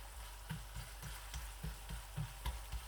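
Onions frying in a pan for keema mutter, softened and starting to brown, give a steady sizzle with regular soft stirring scrapes about every quarter second.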